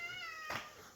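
Cats meow inside a home garage, a single clear mew that rises and then falls over about a second. The call is fairly close and stands out over a steady background hiss, with no talking.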